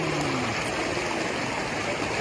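A river flowing in a steady broadband rush of moving water, loud and continuous, with a faint voice-like tone briefly at the start.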